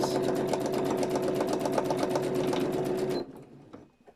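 A sewing machine stitching a gardening journal cover runs in a fast, steady mechanical whir with regular needle clatter, close and loud for about three seconds, then stops abruptly and leaves faint handling noises.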